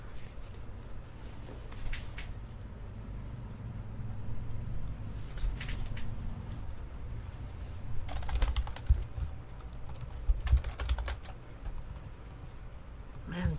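Bursts of clicky typing on a computer keyboard, soft and close, scattered in irregular runs over a low steady background hum.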